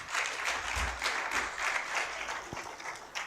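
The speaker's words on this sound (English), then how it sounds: "let's clap for our panel again." An audience at an intellectual property conference applauds its panel. The fairly faint, somewhat distant clapping rises and falls in soft waves for a few seconds.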